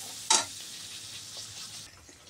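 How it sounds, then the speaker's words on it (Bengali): Ground spices sauté in a pan for a red paneer curry. A single sharp scrape of stirring comes near the start, followed by a faint, steady sizzle with no talking. "দিয়ে এবার একটু কষিয়ে নেব।"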